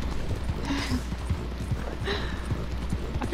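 Horse hooves clip-clopping in the Red Dead Redemption 2 game world, a steady run of hoofbeats under a dense game soundscape, with brief whinny-like tones and excited voices over it.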